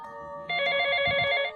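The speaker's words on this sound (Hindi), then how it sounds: "मेरे मोबाइल पर अचानक कॉल आई।" Mobile phone ringtone used as a horror story sound effect, a single short electronic tonal ring with bright harmonics that starts abruptly, holds for about a second and stops, fairly quiet over faint background.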